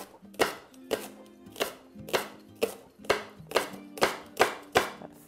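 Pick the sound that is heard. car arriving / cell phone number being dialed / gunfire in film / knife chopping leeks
knife chopping leeks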